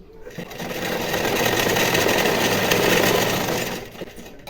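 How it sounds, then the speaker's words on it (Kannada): A sewing machine runs a continuous stitching pass along a cross belt strip, with a steady rapid whirring hum that rises, holds for several seconds and then winds down. "ಈಗ ಇದ್ರ ಮೇಲೆ ಇನ್ನೊಂದು ಸ್ಟಿಚ್ನೂ ಹಾಕೋತೀನಿ"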